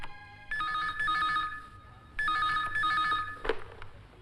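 A telephone rings at moderate volume indoors, two long trilling bursts of the bell separated by a short pause, followed by a brief clatter as the receiver is picked up.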